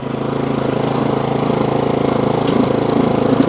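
A Toro Snow Master snow blower engine runs steadily at close range with the auger engaged, a loud, even, throbbing drone throughout with a couple of faint clicks.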